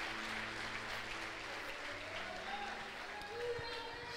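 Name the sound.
church congregation standing and applauding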